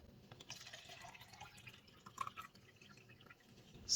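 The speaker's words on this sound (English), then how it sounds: "I'm going to add some water." Water poured into cups holding sweet potato slips, faint trickling and dripping with small splashes, quiet and close, no talk.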